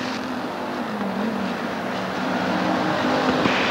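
NASCAR bomber stock cars race on the Ascot Speedway oval in 1988, their engines droning together in a sustained roar that swells slightly as the pack pushes through the turns.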